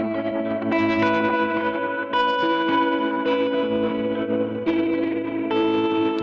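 Chroma Console effects pedal with all four modules engaged, a sustained chorused, distorted guitar texture with echoing, shimmering repeats and new notes swelling in every second or so, steady and loud with no talking.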